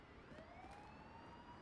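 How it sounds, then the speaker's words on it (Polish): Emergency vehicle sirens in Fernbus Simulator video game during a night drive, a rising and falling wail heard at moderate distance over a steady background rumble. "I tu też te syreny."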